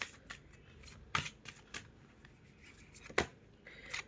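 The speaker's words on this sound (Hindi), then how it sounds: "बस मैं एक कार्ड और लूँगी" Tarot cards are drawn from a deck, giving a few soft slaps, flicks and rustles scattered at uneven intervals in a quiet room.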